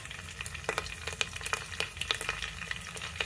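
Curry leaves crackle in hot oil as part of a tempering for a Telugu taro (chamadhumpa) pulusu, with steady frying hiss and sharp scattered pops, close and moderately loud, no talking.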